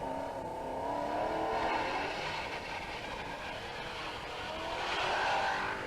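A Mini Cooper competes in the 1991 West Cork Rally, its engine rising and falling in a steady moderate roar as it passes along a country road.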